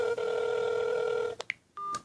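An LG G2 Sprint smartphone rings with a loud, close electronic tone held steady for over a second, then a few short bright beeps and a brief second tone, with no talking.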